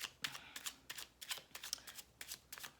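Tarot cards shuffled by hand in a quick series of crisp riffling bursts, close and fairly quiet, with no talking over them.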